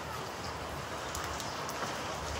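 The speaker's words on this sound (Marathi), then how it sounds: "सो जाम जोरात पाऊस आहे." Heavy rain pours as a steady, dense hiss with no break, loud and close, and nobody speaks.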